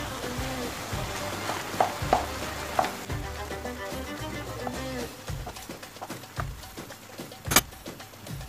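Tomato paste and liver sizzle in a pan for Maraş-style liver kavurma, a steady close frying hiss broken by stirring scrapes and a few sharp utensil clinks, with one bright clank near the end.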